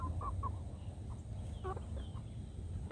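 Soft, scattered clucks and gobbling calls from chickens come and go over a steady low rumble of background noise, with no talking.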